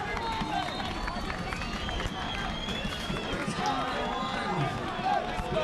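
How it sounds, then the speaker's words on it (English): A dense, steady roar from a Thanksgiving Day football crowd getting loud behind the defense, a continuous wash of cheering with a commentator talking over it throughout. "Crowd getting loud behind their defense."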